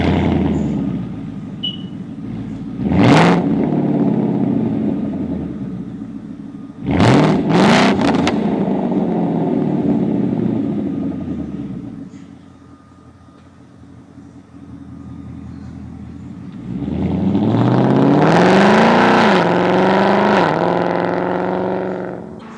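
A 2015 Ford Mustang GT V8 engine revs several times: two sharp blips, a third quick pair, then a longer climb through the revs, settling between each back to a deep, loud idle rumble, with no voices.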